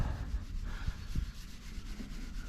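Steady, close rubbing of scratch remover into car paint with a rough, scratchy texture, continuous strokes over a low background, no voices.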